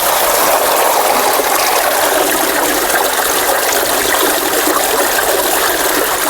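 Water gushes out of the bottom outlet of a fish farm tank as sludge drains away, a loud, steady rushing flow that never lets up.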